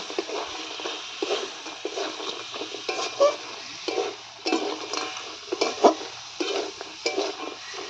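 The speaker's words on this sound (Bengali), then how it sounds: "যে চিংড়ি মাছের ঠ্যাংগুলো ভেজে রেখেছিলাম দিয়ে মশলার মধ্যে একটু কষবো" Fried shrimp legs are stirred through a sizzling spice masala in a pan, with a steady frying hiss broken by frequent scraping spatula strokes.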